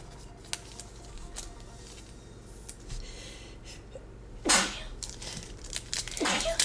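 One sharp, fairly close sneeze bursts out partway through over low background hum, followed moments later by another short breathy burst.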